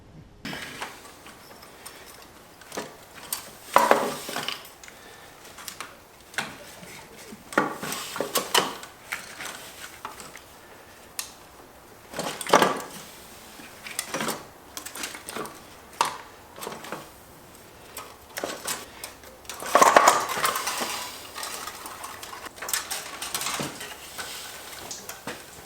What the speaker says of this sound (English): I'm gonna get that line off, and I'm gonna work this manifold out of here